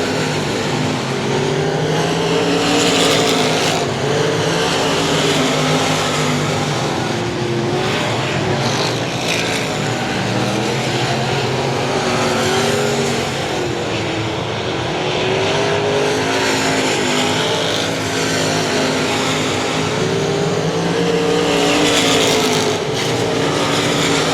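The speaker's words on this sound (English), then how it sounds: "2 laps to go on Johnny Torres right there." Race cars roar around the I-37 Speedway track on the final laps, a dense continuous engine drone with rising and falling pitch as the pack circles, loud and unbroken throughout.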